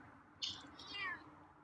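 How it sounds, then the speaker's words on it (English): A feral cat meows quietly twice in close succession, a short chirpy call followed by a longer drawn-out one, over a low background hum. "The meows aren't very loud."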